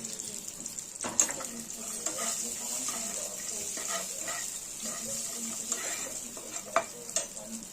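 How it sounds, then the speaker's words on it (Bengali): About 25 grams of cashew nuts frying in a pan, giving off a steady hissing sizzle up close, with occasional light clicks and scrapes from stirring. "কাজু বাদামটা হালকা করে আমরা ভেজে নেব লাল করে।"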